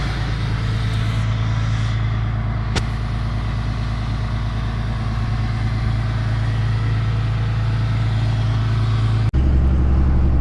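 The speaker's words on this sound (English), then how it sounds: "So this is high idle with the exhaust brake on" Steady heavy drone from the exhaust of an emissions-deleted 2013 Ram 3500 at high idle with the exhaust brake engaged, loud and close throughout, with a sharp click near the end and no speech.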